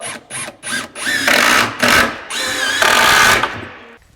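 Power driver sinking GRK screws into hardwood kitchen cabinets during a cabin build: several short, loud whirring bursts, then longer, rising runs as each screw drives home, close up with no talk.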